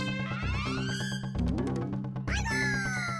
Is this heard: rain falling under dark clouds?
no